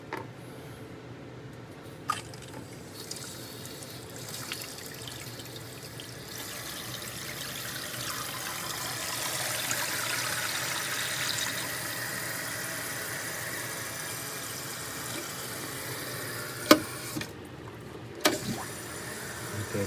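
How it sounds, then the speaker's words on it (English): Water rushes steadily into a toilet tank through a newly installed fill valve, a soft hiss that swells through the middle and eases off, with a few sharp knocks near the end. "Then you turn on the water."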